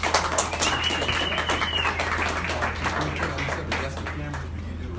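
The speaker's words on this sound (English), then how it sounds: "let's give a nice warm round of applause for Stef Darnell." Applause from a live comedy club audience at an open-mic night, a dense steady wash of clapping that carries through the whole stretch with a low hum underneath.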